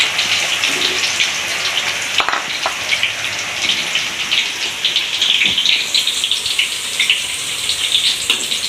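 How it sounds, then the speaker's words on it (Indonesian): Tempeh frying in hot oil in a Padang-style home kitchen, a steady dense sizzle and crackle with scattered pops and spits throughout, close and fairly loud, no talking. "Tempenya kita masak kita masak tempenya, kita goreng."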